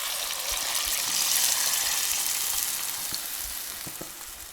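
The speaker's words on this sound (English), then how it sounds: "we're just going to allow all this to saute with each other" Parsley and herbs saute in a pot with a continuous, bright sizzling hiss, steady and close, with faint stirring knocks underneath.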